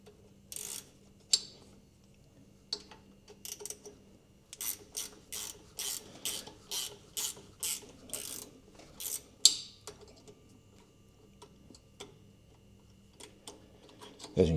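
A spanner ratchets nuts tight while hooking up wiring on a Holden HQ one-tonne tilt tray, giving bursts of quick, close metallic clicks in steady runs with short pauses, and no talk.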